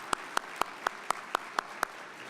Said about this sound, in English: I'd ask everyone to join me in a round of applause for Joe Foyer.